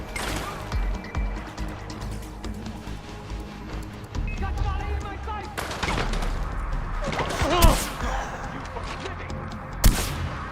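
Enemies fire on the player in the video game Far Cry 4: scattered gunshots and a few sharp, loud cracks over busy in-game noise.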